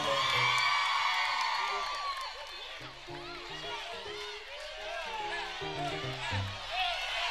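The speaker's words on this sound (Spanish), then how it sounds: "Un grito de las chicas para David" A crowd of girls at a dinner event shrieks and cheers loudly for a singer at first, the high-pitched screaming fading into scattered whoops and shouts.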